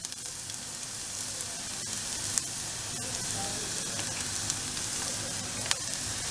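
Pieces of elephant foot yam fry in oil with a steady, close sizzle and scattered small crackles and pops, no voices.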